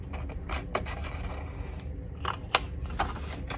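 Scissors snip through paper while a Valentine pillow box is cut out, a quick run of crisp cuts then a pause and a few louder snips near the end, close and alone.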